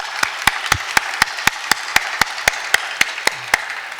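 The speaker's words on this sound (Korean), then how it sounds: "주님께 올려드렸지만 우리 한번 박수로 한번 격려하고 축복하겠습니다." A church congregation at a Sunday youth service claps for the choir in a steady, evenly spaced beat of sharp, distinct claps, about four per second, with no talking over them.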